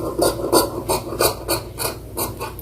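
Scissors cutting fabric for a blouse, a close rhythmic series of about eight rasping snips at an even pace, with no voice.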